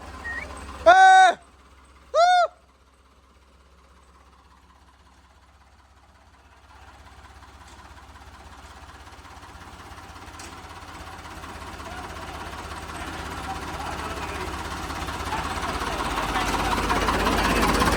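Ford 3600 tractor engine running steadily, a low continuous rumble that grows gradually louder over the span, preceded early on by two brief tonal bursts.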